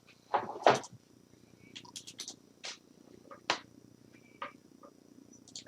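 A pet cat named Mini purrs steadily and close by indoors, a low continuous rumble broken by a loud meow-like call near the start and a few soft clicks and knocks.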